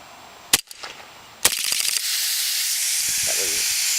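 Elite Force 1911 A1 airsoft pistol fires two sharp snaps about a second apart. A steady loud hiss follows and continues to the end.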